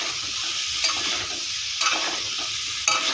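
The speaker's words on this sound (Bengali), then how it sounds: "এখন দেবো একটু খুন্তি দিয়ে নাড়া।" A spatula stirs a sizzling pointed gourd (potol) curry in a pan, with three distinct scraping strokes about a second apart over a continuous frying hiss.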